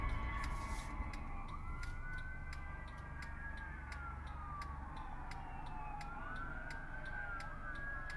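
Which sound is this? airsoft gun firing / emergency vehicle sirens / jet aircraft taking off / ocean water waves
emergency vehicle sirens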